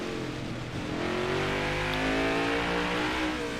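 A NASCAR stock car engine in the racing game NASCAR Heat 5 drones at full throttle and climbs steadily in pitch as it revs, loud and continuous with no voices.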